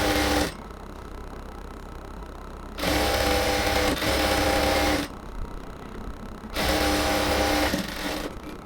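Close, loud sewing machine runs stitching the hem of a salwar, in two long steady bursts of mechanical whirring separated by quieter pauses.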